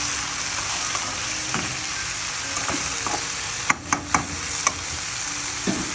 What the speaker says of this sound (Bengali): এগুলো দিয়ে আমি একটু কষিয়ে নিব, মশলার সাথে ভালো করে একটু মিশিয়ে নিব।